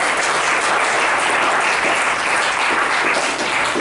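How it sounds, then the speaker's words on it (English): A church congregation at a Christmas program claps loudly and continuously, a thick, even roar of applause filling the room with nothing else over it. "Let's give God an applause for the River Church"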